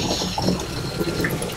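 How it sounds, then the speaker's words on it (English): Water gushes and trickles steadily from the outlet of a compost extract washer on a commercial farm, a continuous close wet splashing. "it's actually not supposed to be much water coming out"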